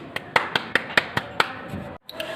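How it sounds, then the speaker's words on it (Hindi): A comedy show audience clapping in a slow, steady rhythm of sharp individual claps about every fifth of a second, close and distinct, cutting off abruptly before a few final taps. "तालियां रुकनी नहीं चाहिए।"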